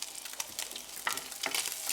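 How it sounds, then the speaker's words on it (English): Butter sizzling and crackling in a hot pan, close up, with irregular little pops over a steady hiss. "wait for the butter to melt and start to sizzle before adding your cured veal"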